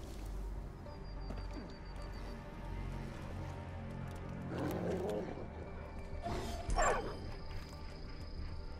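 A tiger roars twice in Far Cry 5, deep rasping growls rising over steady outdoor game ambience, the second louder than the first.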